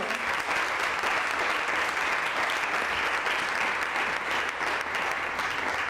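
A church congregation applauds with dense, sustained clapping that fills the space evenly for several seconds, loud and continuous with no voices standing out.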